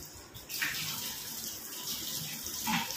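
Water runs from a tap into a container for a Glucon-D drink, a steady close gushing splash that starts after a brief pause and carries on with slight shifts in tone as the vessel fills.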